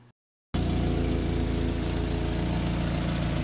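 A steady engine idle starts abruptly after a brief silence, a continuous low rumble with a regular mechanical pulse, close and fairly loud, with no talking.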